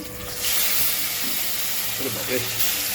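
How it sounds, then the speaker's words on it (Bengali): Pomfret fish frying in a pan of hot oil gives a steady, close sizzle that swells after a brief quieter start and holds, with faint murmuring in the background. "এই লাস্ট মাছ ভাজা হচ্ছে"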